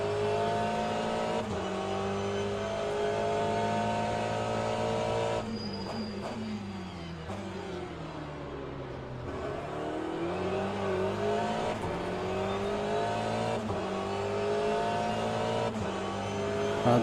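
Hypercar engines in a racing game at Spa, several cars droning loudly and steadily with rising and falling pitch as they accelerate and pass. No talking.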